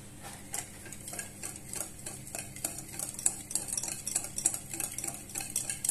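Cake batter with oil is being mixed in a bowl, making a steady, fast rhythmic whisking and ticking of the utensil against the bowl that continues without a break, heard up close with no talking.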